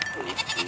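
A goat bleats during goat herding, a short wavering cry heard at moderate distance over steady outdoor background noise.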